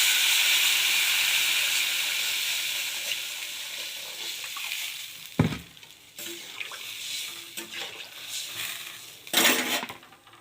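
Water poured into a hot cooking pot sets off a loud hiss that slowly fades, followed by several sharp clanks of utensils against the pot.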